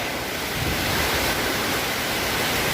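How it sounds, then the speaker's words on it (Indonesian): Heavy rain driven by strong typhoon wind in Selatpanjang, a loud, dense, unbroken roar of downpour and gusts close around the recorder. "Sekarang hujan lagi yang turun."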